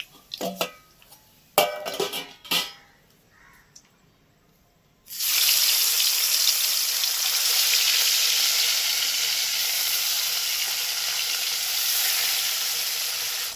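Parshe fish frying in hot oil, with a few sharp clinks of utensils against a pan before a sudden loud, continuous crackling sizzle takes over and holds steady, close by and without speech.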